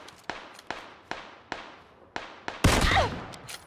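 Rapid single gunshots crack out one by one at a steady pace in a PUBG match, then a louder burst of mixed firing and impact noise takes over near the end, with no talking.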